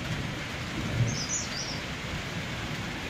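Rain sets in over Nainital with distant thunder, a soft steady patter and wash of rainfall with low rumbling underneath and a brief chirp of birds, no voices.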